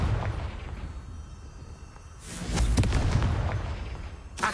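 A Confringo fire spell explodes in Hogwarts Legacy with a rising whoosh and rumbling blast that holds for about two seconds, followed by a sharp burst at the end, loud and close.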